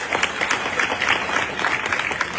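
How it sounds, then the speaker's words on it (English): Applause from an audience at a live evening gathering in Boston, steady dense clapping from a crowd close by, sustained evenly for the whole moment. "Please clap for this lady here."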